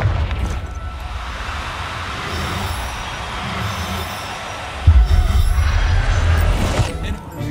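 A Confringo fire spell explodes in Hogwarts Legacy, a deep booming blast under a rumbling, noisy game soundscape, with a heavier impact hitting midway and rumble continuing after.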